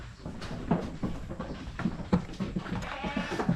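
Goats on a rural farm give several short bleats in the morning, scattered and fairly close over a rustling, clattering barnyard background.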